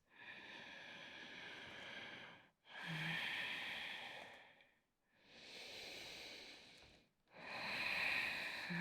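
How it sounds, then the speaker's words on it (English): Ujjayi breathing during a yoga sun salutation sequence: four long, hissing, throat-constricted breaths alternating inhale and exhale, each lasting about two seconds, close and clear with no talking. "5 ujjayi breaths."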